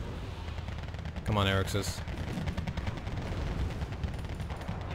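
Gunfire from the Wargame: Red Dragon strategy game during a Second Korean War campaign, a short burst of shots under a loud spoken line, with a busy battle din continuing behind.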